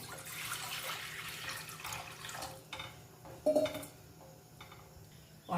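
Water poured into a pan on a stove to start sugar syrup for gulab jamun, a soft close trickle and splash with a brief metallic clink of the pan, quiet overall.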